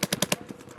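A new paintball gun fires a quick burst of four rapid, loud pops in under half a second, followed by a few fainter echoing thuds.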